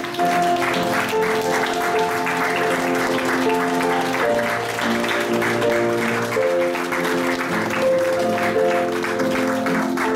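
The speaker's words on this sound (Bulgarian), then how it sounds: "Аплодисменти за родителите на младоженците!" Wedding guests applaud the couple's parents at a seaside casino venue, a steady, dense roar of clapping that continues throughout, with music playing underneath.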